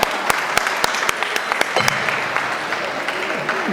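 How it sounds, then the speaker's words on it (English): Applause from the audience at a charity gala in Chicago, brisk clapping with a few sharper claps up front, steady and fairly close, with a little voice mixed in. "round of applause for their big hearts today"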